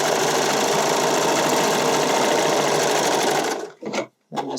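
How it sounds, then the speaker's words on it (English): A serger sewing machine stitches a lettuce edge hem on spandex, whirring loud and steady at close range for several seconds before stopping and giving two short bursts. "I'll sew over where I've already sewn, and I just make an effort not to cut off any that I've already done"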